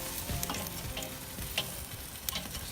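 Chicken thighs sizzle on the direct side of a grill as the skin crisps, a dense, continuous crackle close by with small pops and shifting.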